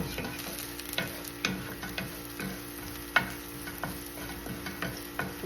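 Shrimp frying in a pan for salted pepper shrimp, a steady sizzle broken by sharp scrapes and clicks of stirring at irregular intervals, close and moderately loud with no voices.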